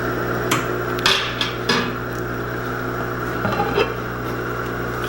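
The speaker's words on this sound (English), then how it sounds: "now it's time to put them in the canner" Glass jars of cherries in wine are set down into a home canner, giving several separate clinks and knocks over a steady low hum, with no talking.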